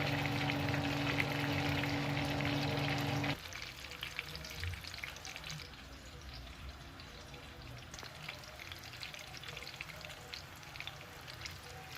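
Chicken fries in hot melted shortening with a dense, crackling sizzle that runs loud at first, then settles into a quieter, steady bubbling hiss with scattered pops, close up and with no voices.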